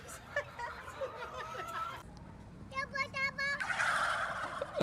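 A live turkey gobbles in quick rattling bursts at a petting farm, close and fairly loud, with a second burst of gobbling near the end amid light background chatter.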